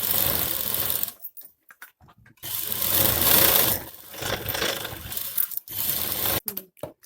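Sewing machine stitching around the lining of a long frock, running in several quick bursts separated by short pauses, close and clear with no talk.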